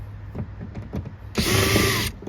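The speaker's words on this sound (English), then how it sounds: "Now let's remove the screws." A power drill backs out screws while front speakers are installed in a Lexus GX470. Several short clicks and bursts come first, then a loud, close whir runs for about a second.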